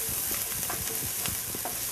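Shallots sizzle and fry with golden-browning ginger in a hot pan, a steady close crackle with brief stirring scrapes and no voices.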